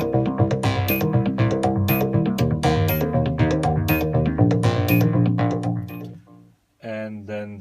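Doubled bass line from a Roland System 100M modular synthesizer layered with a second recorded synth track, a steady rhythmic pulse with bright harmonic notes that play continuously, drop out briefly near the end, then return.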